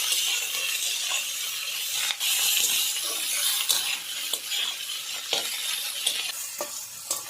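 Carrots, potatoes, onions and tomatoes browning together in a hot pan, a steady bright sizzle with repeated scraping stirs and utensil clicks, no voices.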